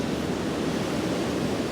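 Surf breaking at Bells Beach during a women's professional surfing contest, heard as a steady, loud wash of broadband roar with no distinct individual crashes and no talk.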